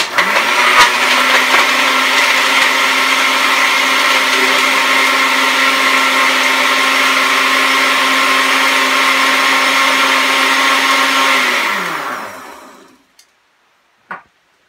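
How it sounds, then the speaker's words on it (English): A loud blender crushes ice, running steadily at high speed for about twelve seconds, grinding and whirring, then winds down and stops, followed by a brief click. "put it in the blender, and then blend it until it's a pretty smooth consistency"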